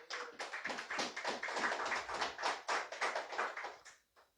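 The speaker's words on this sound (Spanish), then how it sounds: "Denle un fuerte aplauso al Señor" A church congregation breaks into applause for the Lord. The clapping is a warm, rhythmic burst of many hands that swells and then fades out within a few seconds.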